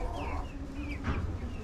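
Light Brahma and buff Orpington hens give a few soft, close clucks and short murmuring calls. The sounds are brief and quiet, heard without any talk.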